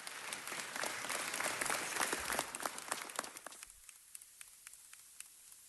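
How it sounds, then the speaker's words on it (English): Council chamber audience gives a big round of applause, dense clapping that swells and then thins out to a few scattered claps as it fades. "give Mike Shea, his family, and his 77th Division family a big round of applause"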